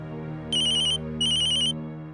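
Two bursts of an electronic phone ringtone, bright and steady, the second following a short gap, over a constant low hum.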